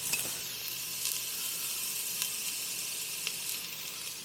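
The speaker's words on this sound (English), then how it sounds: "right now, I'm gonna add the onions and the garlic" Onions and garlic sauté over low heat in a pan, giving a soft, steady sizzle with occasional small pops and stirring clicks, faint and close.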